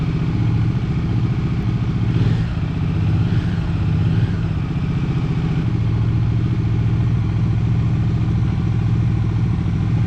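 A motorcycle engine idles and runs steadily close by at dawn as a solo ride toward Anantapur begins, a continuous low rumble with a faint clattering texture that holds without pause.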